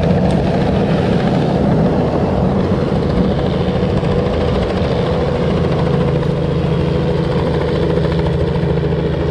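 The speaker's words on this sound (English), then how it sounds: "See if I can get a shot of this helicopter." Helicopter flying overhead at an Ironman competition, a steady droning engine and rotor hum that stays loud and continuous throughout, with no voices.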